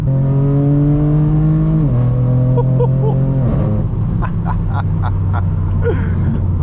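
A straight-piped BMW M4 F82 accelerates hard on mountain roads, its loud exhaust climbing through the revs with a shift, then crackling pops and burbles as the throttle lifts, close and alone.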